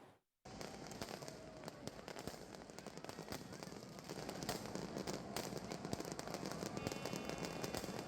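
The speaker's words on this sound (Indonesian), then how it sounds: "Pesta kembang api ini semakin menambah kemeriahan acara Car Free Night" New Year's fireworks at a Car Free Night street event in Indonesia pop and crackle in rapid, overlapping bursts, building in intensity over a steady outdoor crowd murmur.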